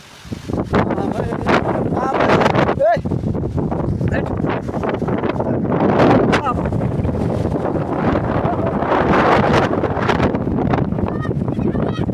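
Strong storm wind buffets the microphone on farmland hillsides at Kakani in Nuwakot during rain, a loud, continuous roaring rush with gusty swells throughout and no break.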